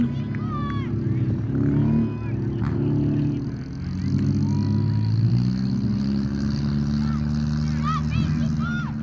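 A race car comes to a stop at the track, its engine rumbling and winding down while an announcer speaks over it.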